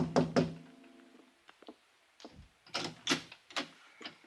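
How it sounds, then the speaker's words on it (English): Knuckles tapping on an apartment door in a radio drama, several groups of dull close knocks spaced irregularly, the first pair louder, with quiet gaps between bursts. "I was still weaving on my feet when I tapped on the door."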